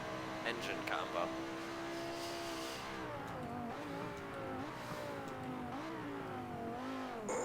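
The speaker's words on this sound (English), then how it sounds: "I'm pretty much keeping this truck bouncing off the limiter now" A truck engine held at its rev limiter while racing, with an odd transmission and engine pairing, a steady droning whine that rises and dips again and again as the revs bounce off the cutoff.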